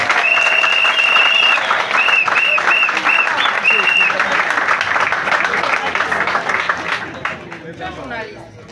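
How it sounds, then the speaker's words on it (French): An audience at a Gabonese ceremony inaugurating a party headquarters bursts into loud, sustained applause and cheering, with whistles and crowd chatter mixed in, before the clapping thins and fades toward the end. "son Excellence, Brice Clotaire Oligui, que j'aimerais que vous applaudissiez pour lui, s'il vous plaît."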